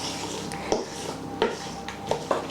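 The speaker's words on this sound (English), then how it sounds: "So you mix your apple into your mixture." Chopped apple is stirred into cake batter in a bowl, with soft wet mixing and several clinks of utensil against the bowl at uneven intervals, close by.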